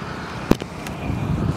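Road traffic rumbles with wind buffeting a DJI Mic Mini used without its windshield, a low continuous roar broken by a couple of brief gust bursts.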